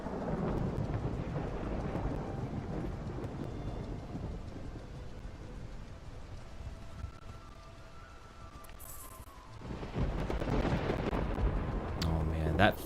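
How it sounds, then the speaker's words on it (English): Thunder in the Mount & Blade II: Bannerlord video game, a long deep rolling rumble over steady rain, loud and continuous, fading briefly and then swelling again near the end. "that thunder sound effect is so good"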